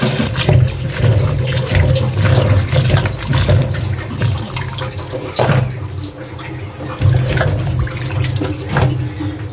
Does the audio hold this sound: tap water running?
yes